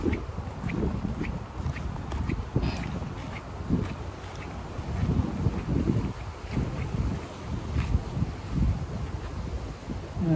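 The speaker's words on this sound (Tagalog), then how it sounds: "Lakas ng hangin kasi ngayon." Strong wind gusting at a fishing spot near an industrial dock in Saipan, a continuous roaring buffet on the microphone with pulsing low rumbles and no talk.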